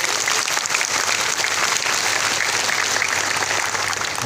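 Village heads (sarpanches) at a government Vibrant Village programme event clap together in agreement, producing a steady, dense, loud burst of applause that continues without pause.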